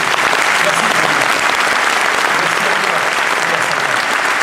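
A room full of people at a Vendée cycling presentation evening applauds two honourees with loud, dense, unbroken clapping that holds steady from start to finish, with no pauses.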